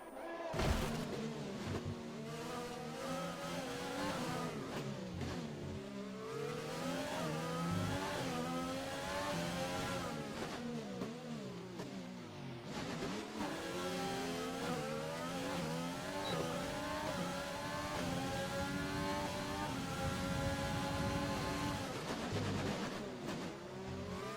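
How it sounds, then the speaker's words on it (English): Race car engines in a Codemasters racing video game rev and wail continuously, with rising and falling gear-change sweeps and cars passing, loud and steady throughout with no talk. "Funny engine noises with Codemasters."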